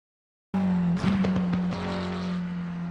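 McLaren race car in Assetto Corsa Competizione at Silverstone, engine droning mid-corner then briefly faltering with stuttering cuts before steadying again, loud and close after a sudden start from silence.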